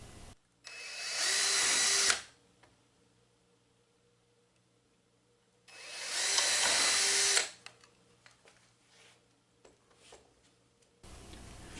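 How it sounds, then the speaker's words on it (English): A power drill bores pilot holes into a wooden water wheel hub in two bursts, each about two seconds of steady high whine, with quiet handling clicks and ticks between them. "Pre-drill pilot holes and attach the side panels to the hub key."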